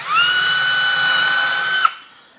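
A power drill fitted with a countersink bit spins up and whines steadily into 3/4-inch cabinet wood for about two seconds, then stops abruptly; close and loud with no talking.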